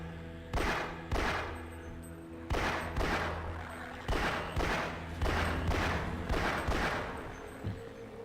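Gunfire in the video game Black Mesa: a string of loud, close shots, each with a booming echoing tail, spaced roughly a second apart with a few quicker pairs.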